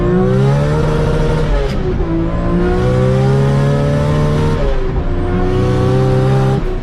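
A turbocharged Toyota 3S four-cylinder engine revs hard, its loud, steady note climbing and falling through the revs, with a brief dip partway through. No one speaks.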